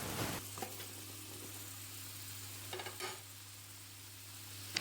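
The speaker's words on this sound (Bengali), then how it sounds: "এবার কুমড়ো আলু দিয়ে ভেজে নেব" Pumpkin and potato pieces frying in a wok give a faint, steady sizzle, with a few soft scrapes and clinks of stirring and no talking.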